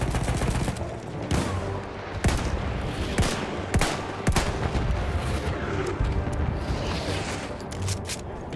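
Battlefield 1 gunfire including sniper shots: sharp, loud reports and bursts crack at irregular intervals over a constant rumble of battle, with no voices.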